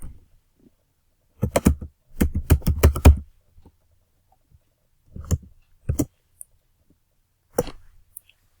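Close, crisp keystrokes on a computer keyboard as a file name is typed, with a fast burst of taps, then a pause, then a few scattered clicks and keypresses in an otherwise quiet room.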